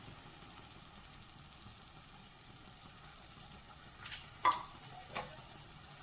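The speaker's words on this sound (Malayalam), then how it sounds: "തേങ്ങയിലേക്ക് അല്പം ശർക്കരപ്പാനി ചേർത്ത് കൊടുക്കാം" Grated coconut roasting with jaggery syrup in a pan for jackfruit preserve, giving a low, steady sizzle with a couple of sharp scraping stirs near the end.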